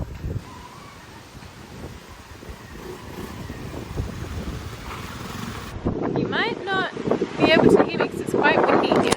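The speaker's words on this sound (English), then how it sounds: "quite windy here" Strong wind buffets the microphone outdoors at Chocolate Paradise on Ometepe Island, a steady low rumble that grows louder and gustier toward the end, with people talking over it.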